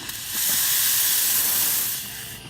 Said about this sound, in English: Here we have the steam